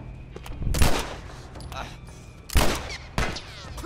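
Gunfire in The Last of Us Remastered comes as two loud bursts of shots with a sharper crack near the end, set against quieter game ambience.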